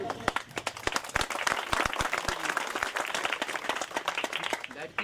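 Audience applause at an award ceremony for a 2025 season 7 sports cup, with dense overlapping claps that stay steady throughout and sharp individual hand slaps standing out near the front.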